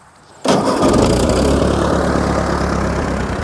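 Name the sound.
Ford 8N tractor engine starting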